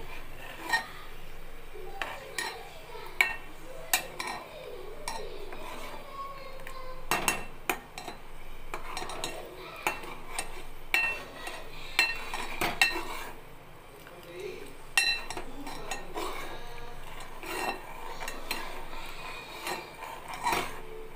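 A spoon stirs turmeric into pulihora, Telugu tamarind rice, scraping and clinking against a metal pot in a steady irregular rhythm of close, sharp taps and scrapes, with no talking.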